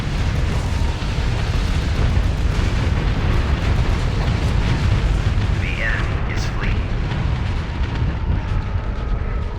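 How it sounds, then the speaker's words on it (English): Ships blow apart in Starsector space combat under a dense, continuous roar of booms and rumbling blasts, a steady loud wash of explosions with some faint higher whines and pops mixed in. "They explode so easily."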